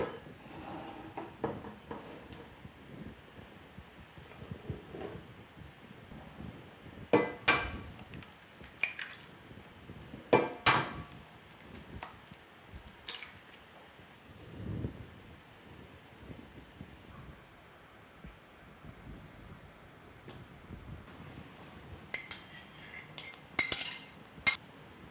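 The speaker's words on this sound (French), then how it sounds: "on va juste mélanger tous les ingrédients ensemble" Carrot waffle batter ingredients stirred together in a bowl, soft scraping and intermittent utensil clinks against the bowl, fairly quiet and close, with sharper taps scattered throughout.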